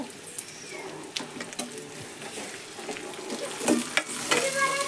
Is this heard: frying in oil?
yes